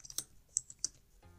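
Keys on a computer keyboard are tapped in a few soft, sparse clicks while someone writes code, quiet and close, with near silence between strokes.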